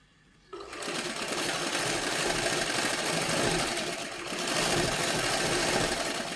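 An electric sewing machine stitches a picot edge along a saree, starting after a brief quiet moment and running as a loud, close, continuous mechanical whir with a slight dip midway.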